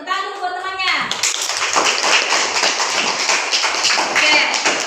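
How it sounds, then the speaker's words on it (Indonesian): Students in a classroom break into quick, rhythmic clapping for their classmates, close and lively, starting right after a voice briefly speaks and continuing in a bright, dense patter. "Tepuk tangan dulu buat temannya."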